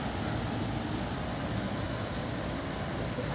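A steady, even whooshing drone of an air conditioner fills the space without pause, a faint high whine running on top.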